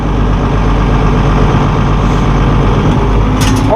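Loud, steady low rumble of an older car engine idling, continuous and close, with no voices.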